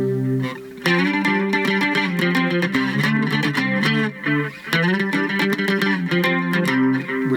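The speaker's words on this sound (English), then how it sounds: "With distortion." Cigar box guitar played through distortion, loud strummed chords in a steady rhythm with a brief pause, no talk.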